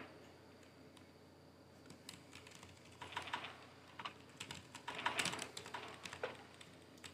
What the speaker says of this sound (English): Stop typing that.